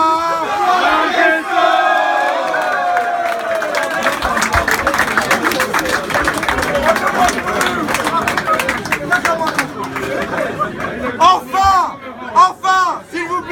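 A loud crowd at a rugby club's mascot election evening cheers, shouts and claps continuously for about thirteen seconds, with whoops and voices rising over the clapping and a rowdier burst of yelling toward the end.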